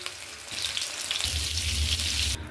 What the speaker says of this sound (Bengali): আমি সর্ষের তেল দিয়ে দিলাম, এগুলো আমি হালকা করে ভেজে নেব, অবশ্যই গ্যাস কমিয়ে।